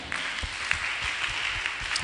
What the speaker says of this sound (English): Please, let's clap for our panel.